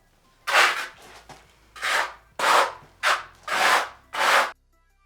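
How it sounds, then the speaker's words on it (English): A trowel spreads skim coat across a bathroom floor during tile prep, with six rasping strokes in an uneven rhythm, each a close, scraping rub separated by short pauses. "I'm just going around spreading it out evenly first, and then I'm going to go back and I'm going to really pull any excess off"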